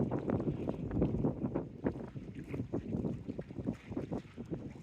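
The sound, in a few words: wind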